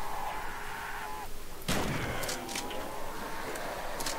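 Gunfire in a World at War custom zombies map on a neighborhood level, a single loud burst of game shots breaking out partway through, then scattered reports and reverberant noise trailing after.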